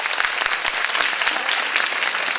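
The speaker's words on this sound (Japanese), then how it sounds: "大きな拍手でお迎えください。" An audience at a public broadcast event in a Korean Cultural Center hall applauds steadily, a dense wash of clapping that holds throughout, welcoming the center's director.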